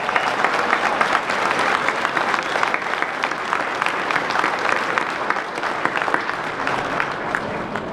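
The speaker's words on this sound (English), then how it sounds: "Give yourselves another round of applause" A crowd in a rotunda at a state government event breaks into a sustained round of applause, dense and steady clapping that holds at an even, fairly loud level throughout with no talk over it.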